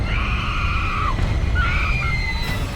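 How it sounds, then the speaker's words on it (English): A woman screams in the TV show Supernatural, two long shrill cries with a short break between them, loud over a steady rumbling background. "Then she screams."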